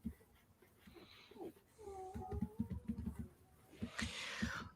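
A dog pants and whimpers close by, with rhythmic breathy pants and a few high whines; a faint voice is heard in the background.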